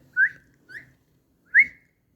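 A pet parrot whistles three short rising notes, the first and last loud and clear, the middle one softer, with pauses between them and no talking.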